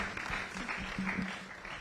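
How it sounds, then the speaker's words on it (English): A room applauding Standard Chartered at a disability career fair, a soft, moderately distant wash of clapping with some voices mixed in underneath. "I think Standard Chartered deserves a round of applause for that."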